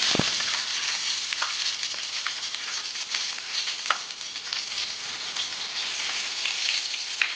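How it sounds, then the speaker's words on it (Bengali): Prawns wrapped in banana leaf fry in hot oil over a low gas flame, giving a steady close sizzle and crackle with scattered sharper pops throughout. "এবার এখানে আমি এটাকে ফ্রাই করে নিই।"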